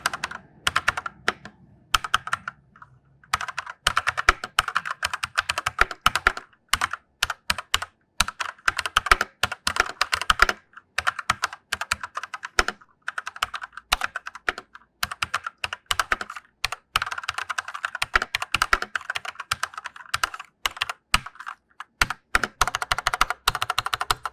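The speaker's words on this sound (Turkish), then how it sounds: "Şimdi klavyenin bir sesini dinleteceğim size." Rapid typing on a GamePower Sense gaming keyboard fills the clip, clicky keystrokes in irregular bursts with brief pauses, fairly close and with no voices.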